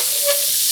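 Vegetables and chicken sizzling loudly in a hot pan while cooking scampi, a bright, steady frying hiss close up, brief and with no talking.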